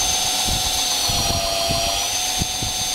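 A knife bevel is ground against a spinning grinding wheel, giving a continuous, close, high whine with a faint rumble and soft bumps underneath.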